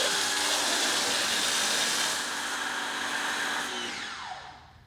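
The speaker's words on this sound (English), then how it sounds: "connecting it to the pressure washer, and here we go" A pressure washer sprays through a MaxShine Snow Master foam cannon, producing a loud, steady hissing rush that holds for several seconds and then tapers off.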